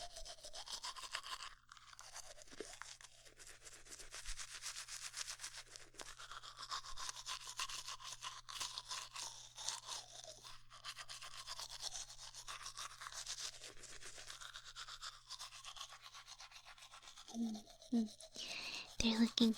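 A toothbrush scrubs teeth in a dental cleaning roleplay, with close, rapid, continuous bristle strokes repeating for the whole stretch and a few soft mouth sounds near the end.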